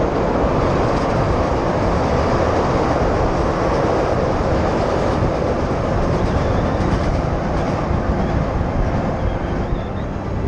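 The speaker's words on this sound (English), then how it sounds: "Oh yeah, here we go, racing the train." A train passes on nearby tracks beside the 606 Bloomingdale Trail in Chicago, a loud, steady rumble and rattle of rail cars that holds at the same level for the whole stretch, with no talk over it.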